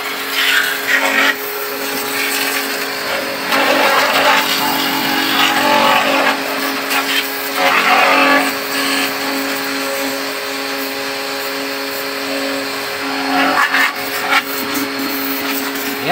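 A pressure washer sprays water hard against a car during washing, a steady hissing rush that swells in several loud bursts over a constant background hum.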